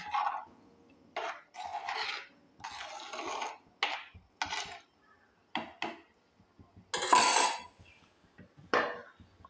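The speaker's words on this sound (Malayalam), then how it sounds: "ഇനി നമുക്ക് നന്നായിട്ടൊന്ന് ഇളക്കി കൊടുക്കാം." Fish curry stirred in a pot with a spoon, a run of scraping, rubbing and clinking strokes in irregular bursts, close and fairly loud, with no one talking.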